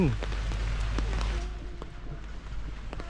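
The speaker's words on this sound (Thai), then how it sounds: "วันนี้มาฝนตกพอดีเลย" Steady patter of rain falling on a surface at a wildlife rescue centre in Nakhon Nayok, Thailand, close and fairly soft, with scattered drips and a faint low background hum throughout.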